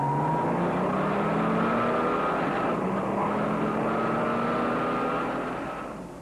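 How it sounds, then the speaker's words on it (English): A 1966 Chevrolet with a 396 cubic inch turbojet V8 accelerates hard in a race run against a Ford 390 Thunderbird car, a loud sustained engine roar rising in pitch through the gears, steady and close throughout before easing slightly at the end. "Look at the way the 396 moves out to an early lead and holds it right through the run."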